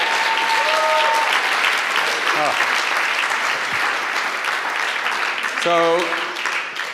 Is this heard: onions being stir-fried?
no